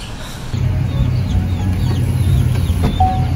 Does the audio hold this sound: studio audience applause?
no